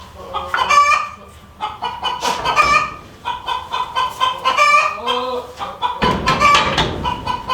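Farmyard chickens cluck repeatedly in uneven bursts close by, with a rooster crow mixed in and a person talking briefly between the calls.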